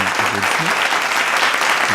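A stock applause effect from the iMovie sound library, a loud, dense crowd of clapping hands running steadily without a break, with faint voices mixed underneath.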